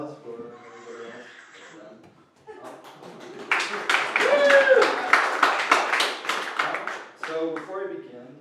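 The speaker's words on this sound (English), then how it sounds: "Round of applause for everybody else" Comedy club audience breaks into applause and chuckles for a comedian, a dense burst of clapping that swells, holds for several seconds, then tapers, with a voice talking before and over it.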